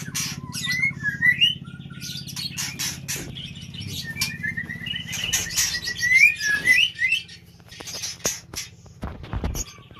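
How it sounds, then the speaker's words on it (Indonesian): Young chicks of a bird native to Aceh chirp in short, high tweets and brief trills, scattered across the span over a steady low hum, with a few faint rustles and knocks near the end. "Jadi ini burung anakannya"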